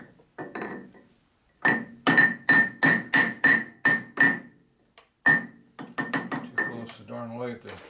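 Sharp metallic hammer blows dimpling the metal of a 1957 Harley-Davidson Panhead cylinder head for a drag race bike, struck in a quick run of about eight ringing hits, then a pause and another cluster, close and loud.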